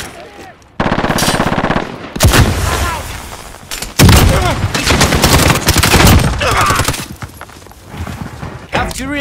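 A PP-19 Bizon submachine gun fires in a video game. Long, loud, rapid automatic bursts are broken by short pauses, and a voice speaks over the shooting.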